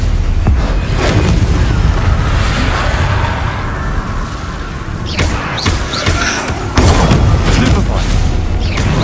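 Hogwarts Legacy combat with rapid spell blasts, including disarming, fire and stunning spells: continuous heavy booms, thuds and crackling bursts over a dense game soundscape, with a character's voice calling out.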